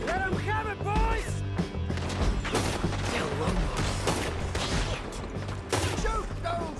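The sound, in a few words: gunfire in a shootout, from video game Red Dead Redemption 2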